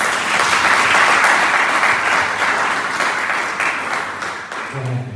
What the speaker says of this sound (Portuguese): Palmas que exaltam Jesus